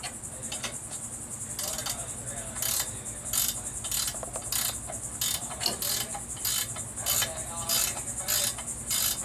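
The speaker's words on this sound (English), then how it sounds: "I'm going to tighten this bolt up." A 19 mm nut on a ball joint of a 2002 Chevrolet 2500 HD Silverado control arm is tightened with a ratchet, producing repeated quick clicking bursts in an uneven rhythm, fairly faint and close.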